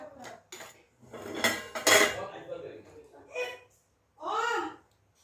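Metal lid lifted off a pot of pulao, with clattering pot and utensil clanks mixed in among people talking nearby.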